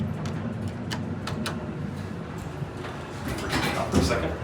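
The door of an Access hydraulic elevator at an office center in North Royalton, Ohio slides along with a rumbling, clattering hum. Scattered knocks and thumps sound nearby, with faint voices in the background.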